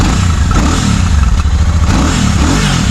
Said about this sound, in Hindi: अब मैं भैया से कहूँगा थोड़ा सा रेप करेंगे, तो ये इस तरीके से कुछ एग्जॉस्ट नोट आएगी